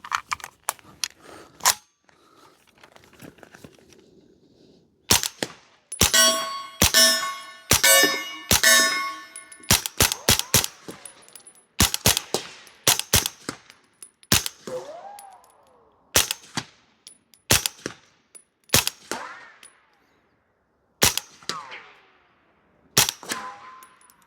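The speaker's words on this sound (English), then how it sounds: "We're gonna shoot these down through the YHM R9 can and see how good it sounds and how good it runs." A Palmetto State Armory AK-V 9mm carbine fires through a YHM R9 suppressor, loud close shots in single reports and quick bursts with pauses between strings, metallic action clanks following each shot.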